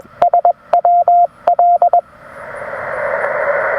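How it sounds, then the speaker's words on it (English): Morse code side tone from an HF radio transceiver beeps in short and long steady tones, a quick burst of clear keyed notes that gives way to rising hissy band noise. "I want to have the side tone down a bit, so it's not overwhelming while it's sending"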